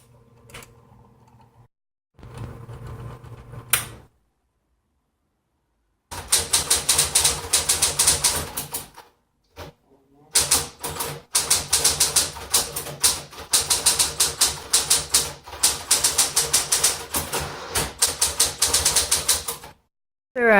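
A manual typewriter types an article onto carbon paper instead of a ribbon, with rapid bursts of sharp key strikes separated by pauses and a carriage clatter, close and loud with no talking.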